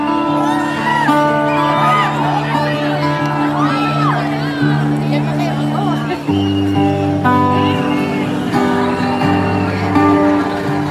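A crowd shouts, whoops and cheers loudly and steadily, with music playing underneath and no break in the noise.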